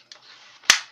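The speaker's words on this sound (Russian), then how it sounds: "Прицеливаемся. И стреляем." A soft mechanical hiss followed by a single sharp crack of a plastic toy air rifle firing, close and brief.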